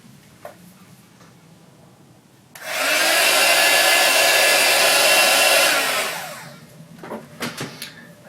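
A hair dryer blows on freshly stippled paint, switching on abruptly and roaring steadily for about three seconds before winding down, with faint ticking and tapping around it.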